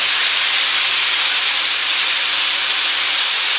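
Meat sizzles loudly in a pan while browning for a hachis parmentier, a dense, steady hiss that runs close and unbroken throughout with no talking.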